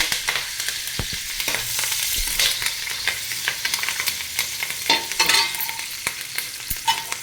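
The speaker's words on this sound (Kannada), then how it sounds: "ಕರಿಬೇವು ಹಾಕಿದ್ಮೇಲೆ ಅದು ಪಟ್ ಪಟ ಅಂತ ಇದೆಯಲ್ವ" Curry leaves crackle in a few spoons of hot tempering oil, a dense close sizzle dotted with sharp irregular pops and spits, steady across the whole stretch with no voices.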